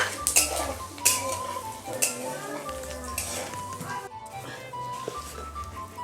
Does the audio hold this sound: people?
no